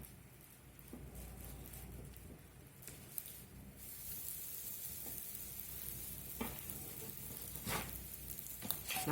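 English muffins cooking on a grill give off a quiet, steady sizzle that grows slightly louder and denser partway through, with a few faint clicks and no talk.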